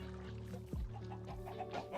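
Minecraft chickens cluck softly in a short run of low, throaty calls, one dropping in pitch, heard faintly over a steady game background.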